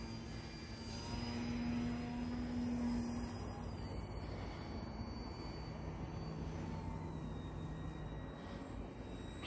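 An E-flite Eratix RC airplane flies overhead, its motor giving a steady, moderately distant whine that holds across the clip with slight swells and fades and no talk.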